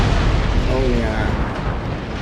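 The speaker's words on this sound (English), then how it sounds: "Nice broadsides." Warship cannon broadsides in the Empire Total War video game: dense, loud rumbling roar of massed naval gunfire with a continuous booming wash and brief rising tones, close and unbroken.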